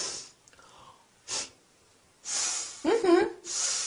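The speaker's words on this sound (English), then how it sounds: "How do I show disapproval? Easy. You sniff." A person sniffs sharply to show disapproval, several short breathy sniffs and snorts separated by brief pauses, close and clear.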